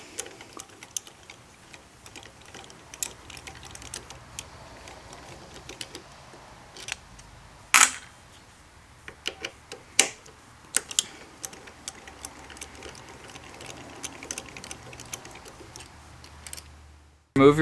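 Ratcheting clicks and sharp metallic taps come from a hand tool loosening bolts on a Concours 14 handlebar riser, close and irregular, with quieter stretches between louder clanks.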